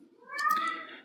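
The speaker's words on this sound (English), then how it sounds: "Sorry about the cat yodeling in the background." A cat lets out a single drawn-out, wavering yowl, a near and fairly loud meow lasting about a second in the background of an indoor room.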